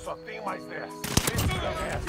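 Gunfire in the video game Warzone, with a burst of sharp shots and rapid crackling in the second half after a player's talk, which continues under the shots.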